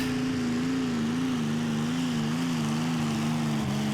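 A tractor in a pulling contest dragging a weighted sledge down the track, its engine a loud sustained drone that wavers slightly in pitch while the distant machine labours on.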